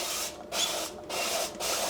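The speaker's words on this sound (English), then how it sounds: "spray the bottom with a little bit of oil" A few short hissing bursts of oil spray into an air fryer basket in quick succession, separated by brief pauses, close and fairly loud.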